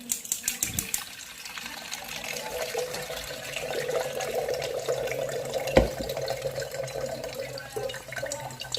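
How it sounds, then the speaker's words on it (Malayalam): Juice of ground ingredients with curry leaves, gooseberry and cucumber is strained and poured, a close trickling, splashing liquid flow with a few clinks at the start and a brief knock midway. "അരിച്ചൊഴിക്കാം."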